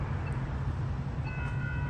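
Low, steady rumble of a San Diego Orange Line light rail train rolling by nearby, with a faint high squeal from the wheels.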